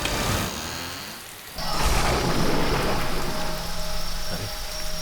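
Heavy rain pours in a dense, steady roar, joined by a deep, rumbling thunderclap partway through, in a dramatized horror-show storm scene.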